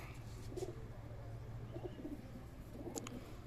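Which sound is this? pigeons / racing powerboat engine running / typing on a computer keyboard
pigeons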